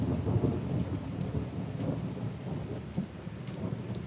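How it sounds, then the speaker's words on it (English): Steady heavy rain pours through a thunderstorm while low rumbles of thunder roll underneath, fairly close and sustained across the whole stretch with a slight swell near the three-second mark. "we can still hear the thunder"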